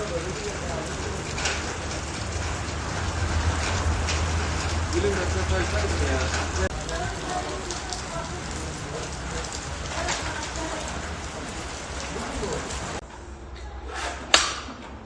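Steady rain water falling at the historic Memiş Paşa Mosque, a dense continuous hiss and patter with a low rumble, close and loud, ending with a brief sharp knock near the close.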